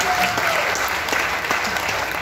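An audience at an award event claps loudly and continuously, a dense steady burst of many hands close by with a faint murmur of voices underneath.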